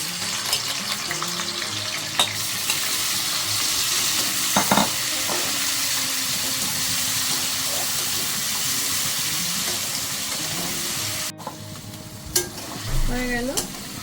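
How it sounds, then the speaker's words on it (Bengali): Paneer frying lightly in a little white oil, stirred around the pan: a steady close sizzle with scraping and clinking of the utensil, a brief knock partway through and faint clatter near the end. "জাস্ট একটু তেলে নেড়ে নিলাম"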